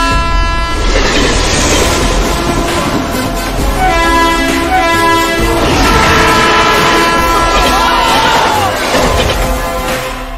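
A passenger train roars past close by, with loud continuous rumble and rhythmic wheel clatter, while its horn blares in long sustained blasts through most of the passage.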